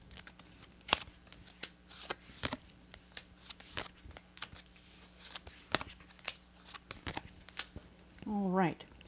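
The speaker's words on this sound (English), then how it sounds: "let's go ahead and lay out these cards in addition to where we are so that we can get more information" Tarot cards being laid out on a table for a reading: a steady run of soft, sharp card slaps and flicks, spaced irregularly and close by, ending with a short rising rustle or squeak.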